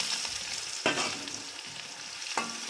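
Onions and green chillies frying in hot mustard oil with bay leaf and dried chillies, a steady close sizzle broken by two sharp scrapes of a spatula, with no talking.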